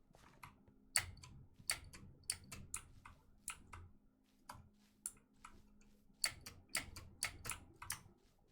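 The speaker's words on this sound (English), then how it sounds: "My keyboard feels so loud" Computer keyboard typing during a Minecraft session, a quiet room with bursts of sharp, close clicking keystrokes in irregular clusters separated by short pauses, no voices.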